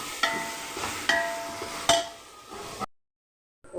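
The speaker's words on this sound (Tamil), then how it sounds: "நல்லா வதக்கி விட்டுடலாம்." Mint leaves sauté in a pan for biryani, with a steady close sizzle broken by three sharp scraping strokes of stirring, then a sudden drop to silence.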